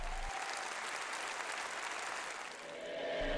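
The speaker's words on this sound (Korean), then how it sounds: "관람자들의 열렬한 박수갈채를" Audience applause following a ballet performance including excerpts from Swan Lake, a dense, steady wash of clapping from a large crowd that swells and slightly dips before the end.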